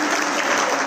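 An audience applauds at an event honouring a foundation team, a dense, steady burst of clapping from many hands filling the space without pause.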